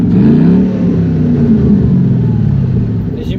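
A Ford Mustang with its exhaust valve open revs hard, a deep throaty rumble swelling and settling over a few seconds, loud and close with no talk.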